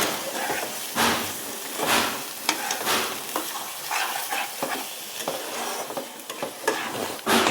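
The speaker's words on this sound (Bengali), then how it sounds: "এটা আমি এবার শুকনো শুকনো করে ভালো করে ভেজে নেব।" Coriander leaves dry-frying in a pan with steady stirring, giving a close, continuous rustling sizzle broken by repeated scraping strokes of the spoon against the pan.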